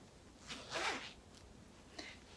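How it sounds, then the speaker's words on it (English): A clothing zipper is unzipped on a thrifted vintage garment: a quiet, close rasping pull lasting about half a second, followed by a shorter faint zip stroke. "And it unzips there."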